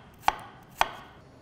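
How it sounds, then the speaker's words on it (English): A knife cuts vegetables on a cutting board during kimchi preparation, two distinct, sharp chops about half a second apart, close and clear in a quiet kitchen. "Just thinly slice them."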